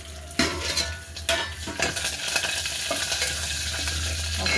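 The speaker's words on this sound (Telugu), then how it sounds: "కరివేపాకు మొత్తం ఫ్రై అయిపోయింది." Curry leaves frying in oil in a home kitchen pan, a steady loud sizzle with a few sharp spatter pops and metal spoon stirring clinks, no talking.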